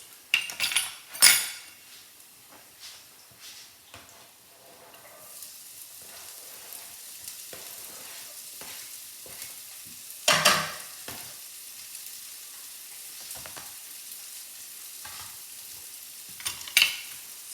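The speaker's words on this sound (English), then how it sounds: "we want the hot oil to interact with the onions" Onions and garlic frying in hot oil for minced pork, a soft continuous sizzle with occasional utensil scrapes and clinks against the pan, close up and fairly quiet.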